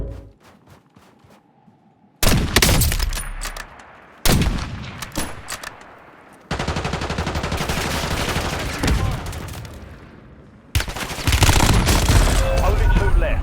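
Gunfire from the video game Warzone comes in loud bursts and sustained rapid volleys separated by brief quiet gaps, with voices speaking in places.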